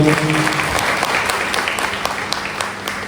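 Loud, sustained applause from an audience at a community gathering, dense steady clapping with a few sharper claps standing out, fading slightly toward the end.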